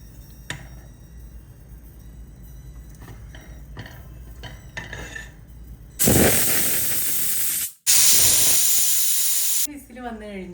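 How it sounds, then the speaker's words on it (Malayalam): A pressure cooker cooking vegetable pulav gives off a loud, sustained blast of hissing steam that breaks briefly and resumes, after quieter kitchen clinks, then cuts off into a fading whistle. "വിസിൽ വന്നു കഴിഞ്ഞു. ഇപ്പൊ ഞാൻ കുക്കർ ഓഫ് ചെയ്തിട്ടുണ്ട്."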